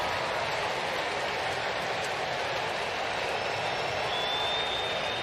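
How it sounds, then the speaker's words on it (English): Chicago Cubs fans cheer a Justin Turner home run, his 200th career homer, a dense, sustained roar of crowd applause and shouting filling the ballpark at steady loudness throughout. "We'll give the Cub fans something to cheer about as they rise to celebrate JT."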